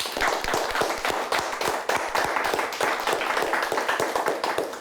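A nice round of applause for a quiz show team fills the studio, loud, close clapping from a small audience with distinct individual claps, continuing steadily with no talk over it.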